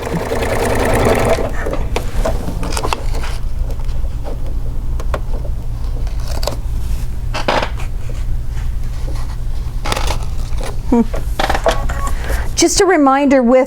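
An embroidery machine stitches a tack-down line on felt, a steady fast mechanical whirr running nearly throughout at close range, with brief clicks and a short rise in speed near the end; a voice talks faintly underneath.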